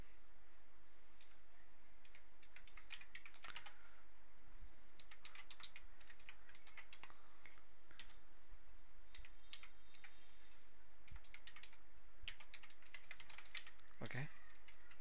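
Computer keyboard typing in a series of quick, light key taps, some in short bursts, with a faint steady hum underneath and a louder click near the end.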